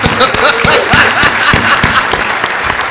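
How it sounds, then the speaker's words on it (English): A crowd breaks into steady, loud applause, dense clapping filling the room for the full stretch with no voices standing out. "let's give her a round of applause."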